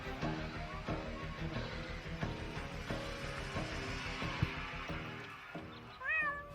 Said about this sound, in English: my poor kitty climbed up the tree and she's afraid to come down